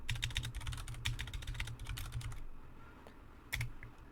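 Keystrokes clatter on a computer keyboard as a terminal command is typed during a RHEL root password reset, fast bursts for about two and a half seconds, a pause, then a final sharp Enter-like press near the end.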